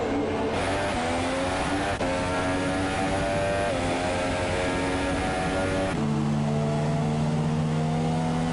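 F2 race cars running around the Belgian Grand Prix track in tricky, damp conditions, with loud engines whining and shifting pitch as cars pass and change gear, sustained and fairly close.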